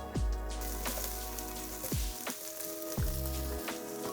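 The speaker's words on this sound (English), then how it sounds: "We are going to cook carrots." Thinly sliced carrots sizzling softly in a pan, with a few sharp clinks and taps of utensils against the pan at intervals; quiet and close, no talk.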